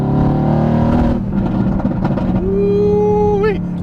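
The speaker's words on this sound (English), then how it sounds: "This car just sounds so good." A Dodge car engine revs up, a loud rising roar with a sharp climb in pitch near the end, heard alone.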